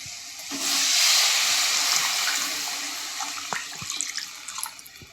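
Water poured from a vessel into a pan of Tamil egg curry (muttai kulambu) with oil-separated masala, a steady splashing gush that rises quickly, holds, then tapers into scattered drips and sizzles.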